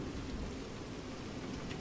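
Steady rain falls on a ship's deck in the game Revelation Online, a dense, even hiss with low rumbling underneath, continuous and fairly close, no voices.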